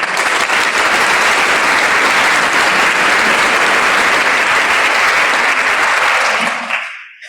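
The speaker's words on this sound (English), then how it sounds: "Let's have a round of applause for your friends and family that stood by your side and cheered you on." Loud, dense applause fills a dental hygiene pinning ceremony as the audience claps for graduates' friends and family, holding steady before tapering off and cutting out near the end.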